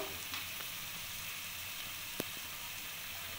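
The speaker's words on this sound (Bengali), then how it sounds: "এবার মশলাটাকে ভালো করে আমি কষিয়ে নেব" Salt and ground turmeric fry and sizzle in a pan on a gas stove while cooking bhola fish with radish, giving a soft, steady crackling hiss with a brief faint tick, no talking.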